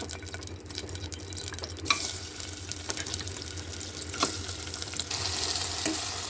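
Curry sizzles and crackles in hot oil in a cooker during tempering, with steady frying hiss and occasional scraping stirs of a spoon, fairly close and loud.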